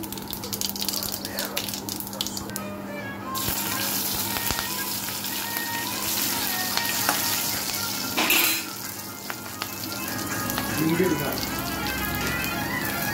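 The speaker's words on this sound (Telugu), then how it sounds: "బీన్స్ ఫ్రై చేస్తున్నానండి, అంటే తాలింపు లాగానే" Beans sizzling in hot oil in a pan, like a tempering, with a steady bright crackle and hiss throughout and a few louder bursts and scrapes along the way.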